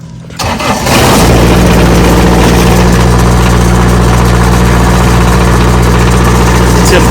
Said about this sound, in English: Since this is a diesel engine, give it about 10 seconds. Then I'm ready to turn it on.